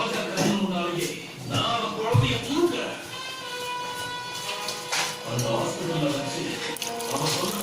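Water runs steadily from a tap into a pot for a village-style mutton curry, a continuous splashing stream with a person talking over it throughout.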